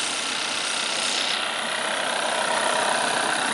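A Volkswagen Golf 1.4 TSI petrol engine with DSG automatic gearbox idles quietly, a smooth steady hum close by with no revving and no talk.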